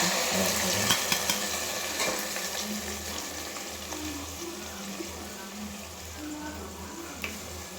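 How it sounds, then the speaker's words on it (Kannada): Ginger garlic paste with coriander and mint frying in a pan for Bidar-style chicken gravy gives a steady, close sizzle, with occasional stirring scrapes and clinks throughout. "ಚೆನ್ನಾಗಿ ಮಾಡ್ಕೋಬೇಕು, ಫ್ರೈ ಮಾಡ್ಕೋಬೇಕು."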